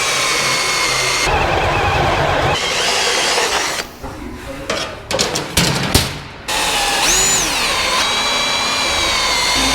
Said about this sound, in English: All that's left is to drill our holes so we can bolt it through.